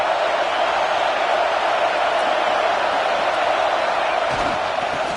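A football stadium crowd at a playoff game roars steadily as fans try to spur the defense in the red zone, a loud, continuous wash of massed noise with no breaks.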